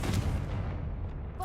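Confringo fire spell cast in Hogwarts Legacy, a booming blast that fades over about a second.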